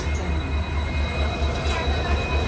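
A train runs along rails, a loud continuous rumble with a low rhythmic throb and steady wheel noise, heard close as if from on board.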